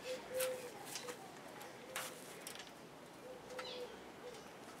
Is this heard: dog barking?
no